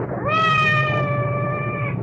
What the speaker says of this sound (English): I hope that cat isn't trapped somewhere.